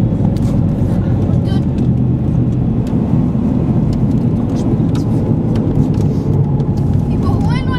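A steady, loud engine and road roar sounds at the Nürburgring circuit, with cars running continuously and people talking over the drone.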